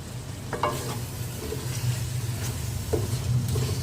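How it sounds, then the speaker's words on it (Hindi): Potatoes fry in spices with mutton mince and peas, sizzling steadily and close up, while a spoon scrapes and stirs the pan at intervals. "इनको भी अच्छे से भूनना है ताकि आलू में मसाला रच जाए।"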